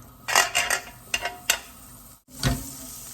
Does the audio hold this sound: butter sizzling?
yes